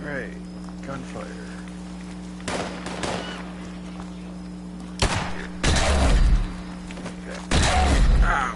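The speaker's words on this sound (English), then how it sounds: "Right, gunfire." Several sharp bursts of Fallout 76 gunfire and booming impacts over a steady hum, with a voice talking quietly in the background between the loud volleys.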